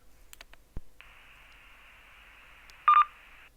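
Baofeng T1 UHF mini radio opening a ham radio repeater: a soft click, a steady hiss of open carrier, then a short bright beep tone near the end, quiet overall.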